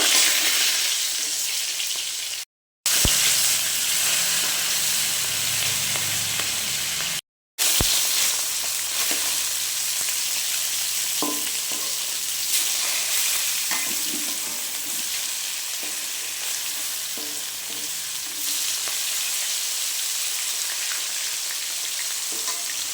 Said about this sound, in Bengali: তো মাছ ভাজা আমি বসিয়ে দিয়েছি